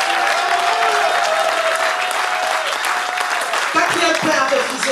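A congregation bursts into loud, steady applause and cheering to acclaim the Lord at a French-language church service, the dense clapping sustained throughout with crowd voices mixed in.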